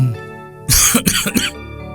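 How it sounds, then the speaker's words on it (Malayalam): A short burst of three or four harsh coughs from a patient with fever, close and loud, with nothing else around them. "ചുമണ്ട്"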